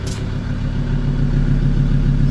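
A Ford Ranger's engine runs close by with a steady, even mid-range hum and faint mechanical clatter as the turbo spools up, loud and alone without voices.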